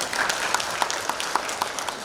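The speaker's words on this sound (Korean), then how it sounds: "정말 그 매끄러운 진행해 주신 우리 조준 메인 패널님께 다시 한번 박수 좀 부탁드리고요" An audience at a photography talk applauds in a dense, sustained burst of clapping, with a few sharper individual claps standing out near the microphone.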